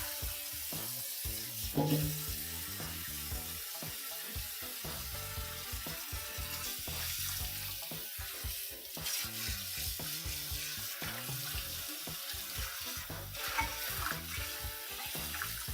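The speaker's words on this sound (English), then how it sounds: "Cheese sauce is always a pain to get out of the pan, so we're going to give this a quick" Scrubbing a pan caked with cheddar cheese sauce in a kitchen sink, with a steady hiss of running water and choppy, rhythmic scraping and splashing strokes up close.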